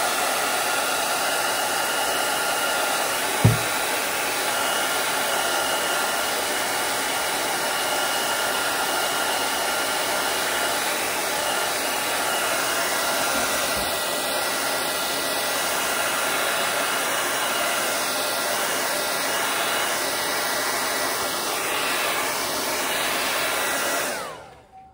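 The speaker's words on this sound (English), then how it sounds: "I think I'm gonna blow dry this up." A hair dryer blows a steady, loud, broadband whoosh over wet acrylic paint on a painting, running continuously for about twenty seconds before switching off at the end.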